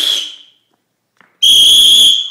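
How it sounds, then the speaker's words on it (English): Emergency whistle blown in two piercing blasts, a short one then a longer sustained shrill tone after a brief silence, loud and close. "I got the emergency whistle, so I'm gonna clear it for dogs."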